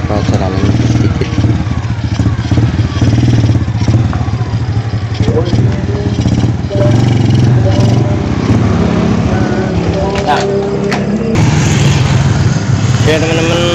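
A Honda Blade 110 motorcycle with an upgraded Sprite 125 clutch housing runs nearby, its engine revving and droning steadily, with a person talking over it.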